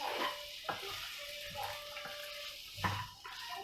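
Okra is stir-fried in a nonstick pan, with soft, faint scrapes and taps of a spatula stirring over a gentle sizzle. A few sharper knocks stand out, and no one speaks.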